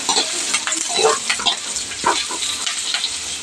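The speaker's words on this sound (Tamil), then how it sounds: "கூடவே கருவேப்பிலையும் சேர்த்துக்கலாம் நல்லா ப்ரௌன் ஆகிற வரைக்கும் வதக்கிக்கலாம்" Curry leaves and onions sauté in a pan for a chicken curry, a busy crackling sizzle with irregular stirring scrapes and clatter, close up and without voices.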